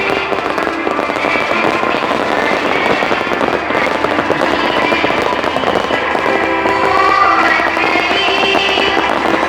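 Dense, continuous crackling of firecrackers bursting at a festival in Mathagal in rapid overlapping pops, loud and close, without any pause throughout.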